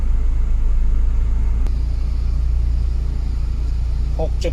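A Honda Civic three-door holds a steady low idle with the air conditioning on and its fan at speed three. A constant deep rumble hums close by throughout, with a brief click partway through and a small sharper sound near the end.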